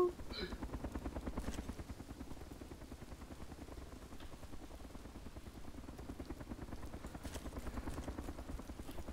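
A steady helicopter rotor thrum in the video game DayZ Overpoch chops continuously at a moderate distance, with faint murmured voices now and then.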